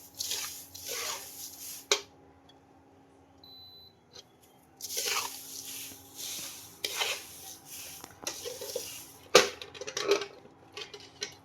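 Thin poha chivda being stirred and tossed with spiced oil in a pan, giving several bursts of dry scraping and crunching rustle with pauses between them, close by and fairly quiet.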